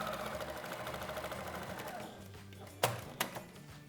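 A sewing machine stitches an inner pocket on a small fabric card wallet, humming in a steady rapid whir for about two seconds before stopping, followed by a couple of sharp clicks.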